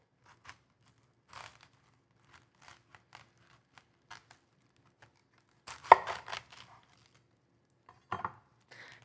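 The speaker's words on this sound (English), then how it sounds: "I'm going to cut a big chunk of the cabbage out, and you want a pretty big and sharp knife for this" A large sharp knife cuts a big chunk out of a purple cabbage, giving sparse soft crunchy slices and scrapes, quiet and separated by silence, with a louder cluster of crisp cuts near the end.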